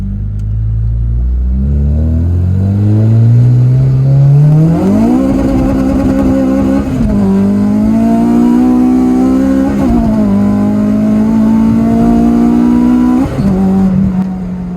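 A car drives along a main road with its engine loud and close throughout, revving up through the gears with several shift breaks, the pitch climbing and dropping at each change.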